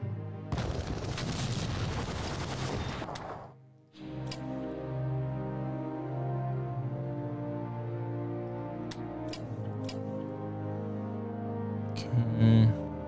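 Artillery fire against a French artillery unit in the World War I strategy game Strategic Command, a loud rumbling barrage lasting a few seconds, then a sustained deep booming drone with scattered sharp clicks.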